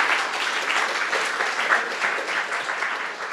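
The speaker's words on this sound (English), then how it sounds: "Let's give a round of applause for Joe and the Space Apps New York organizing team." A crowd at a hackathon orientation event claps and cheers, a dense, close, steady wash of applause with slight swells throughout the short stretch.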